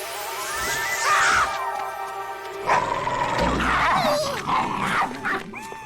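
A pet dog named Rex growling and yipping at close range, low throaty rumbles rising into whiny, strained vocal bursts in short repeated spells.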